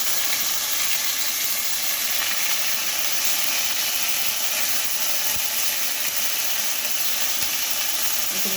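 Chili, garlic and ginger paste frying in a pan, a steady close sizzle and hiss that holds continuously without a break.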